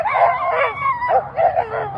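Excited sled dogs at the start of the Fur Rondy Open World Championship race let out overlapping yips, barks and howls, loud and close, in restless bursts with no pause.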